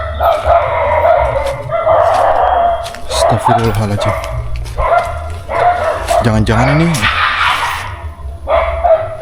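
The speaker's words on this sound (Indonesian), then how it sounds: "Banyak banget suara guguk ya." Many dogs bark and yelp in a forest along a slippery, lonely path, the barking fairly near and frequent beneath the close voice of a person talking throughout.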